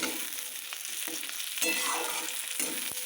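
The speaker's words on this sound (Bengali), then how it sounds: "একদম অল্প তেলে চিকেনটা করবো" Chicken pieces fry in only a little oil, making a dense, continuous close sizzle with brief stirring scrapes spaced through it and no one speaking.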